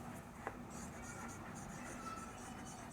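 Marker or chalk writing on a board during a physics lecture on AC circuits, a steady faint scratching and tapping at low level with no speech over it.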